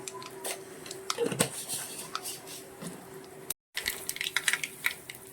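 Mustard seeds splutter in hot oil with scattered sharp pops and crackles close by, over a faint steady hum, briefly cutting out near the end.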